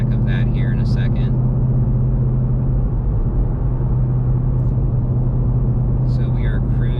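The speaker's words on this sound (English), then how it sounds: "The track idle is now enabled. We'll give you a little sound check of that here in a second." A 2013 Ford Boss 302 Laguna Seca idles in track-idle mode with a steady, deep engine rumble throughout, while brief voices break in at the start and the end.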